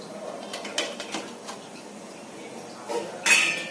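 A metal pot is set over boiling water on a gas stove for steaming muthiya, giving a few light metallic clinks and a louder clatter near the end, over a soft background.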